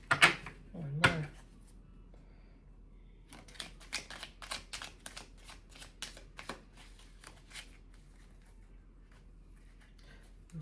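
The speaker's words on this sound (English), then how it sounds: "Shuffle one more time." Tarot cards are shuffled near the microphone: a quick riffle burst, a pause, then a longer run of rapid crisp flicking taps that gradually thin out.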